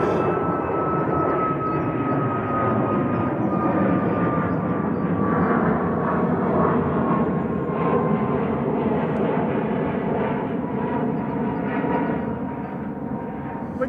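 Ryanair airliner departing Manchester Airport for Bologna, a continuous jet roar heard from a distance with a slowly falling whine running through it, steady in level throughout.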